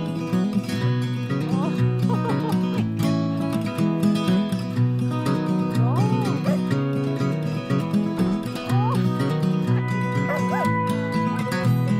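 Sled dogs in Alaska barking: a dense, loud chorus of barks, yips and whines from many dogs together, continuous and close for the whole stretch.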